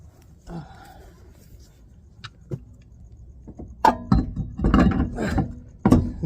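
Wheel being refitted to a Toyota Starlet on BC Racing coilovers: a few quiet mechanical clicks early on, then a burst of loud ratcheting and wrench clatter in the last two seconds, fairly close.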